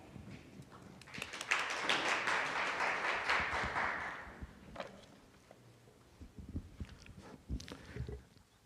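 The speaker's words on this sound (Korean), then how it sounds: "여러분 따뜻한 박수로 환영해 주시기 바랍니다" A conference audience at a blockchain technology and policy session claps warmly to welcome a speaker, swelling quickly into a dense burst that fades after a few seconds, leaving scattered taps and faint shuffling.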